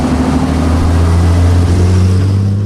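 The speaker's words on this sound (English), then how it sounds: "the incredible noise of the engine." A veteran Jaguar D-Type Le Mans race car engine drones loudly and steadily from close by, a deep sustained roar with strong low tones and wind noise mixed in.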